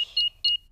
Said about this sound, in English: Switch the alarm back on.